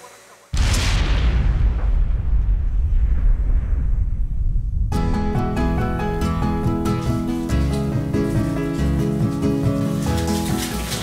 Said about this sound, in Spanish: ya tronamos. Se sintió fuerte, el disparo salió todo bien y cayó el material